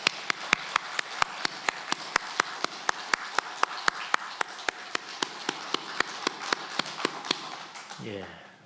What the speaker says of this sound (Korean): 우리도 힘찬 박수로 영광 돌립니다.